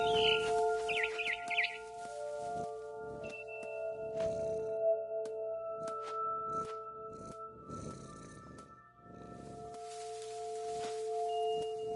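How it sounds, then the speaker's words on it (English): Chirping of a barn swallow in the video game What Remains of Edith Finch, bright repeated chirp tones over a steady ambient game soundscape with sustained tonal drones, moderately loud throughout with no talk. "Then I heard chirping outside my window. It was a barn swallow going back to her nest."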